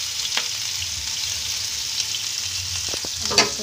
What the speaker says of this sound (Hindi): अब ये सबको अच्छे से थोड़ा सा भून लेंगे हम।